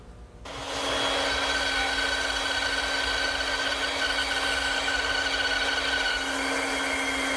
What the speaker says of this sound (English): then I'll cut it over at my bandsaw